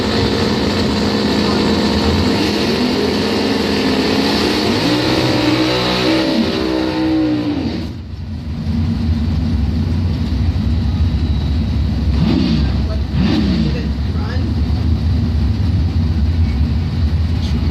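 Top Doorslammer drag cars, a Chevy S10 and the Lake City Chevy II, roar at the Bonfire Salute strip. Engines rev and rise in pitch, cut off briefly, then return as loud, rumbling drones with a voice faintly underneath.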